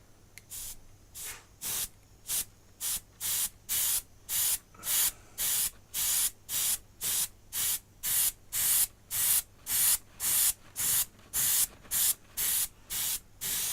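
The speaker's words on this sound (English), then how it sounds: "What I'm going to do is put another little bit of adhesive on here." Adhesive sprayed onto a scale model in a steady train of short bursts, about two per second, each a loud, close airy hiss with brief gaps between, no voices.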